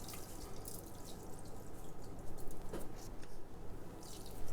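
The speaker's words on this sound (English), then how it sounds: "Maybe add just a little bit more water to that." Water poured into a pan of sweet potatoes being glazed with brown sugar, a soft continuous trickle and splash with faint dripping, steady and close throughout.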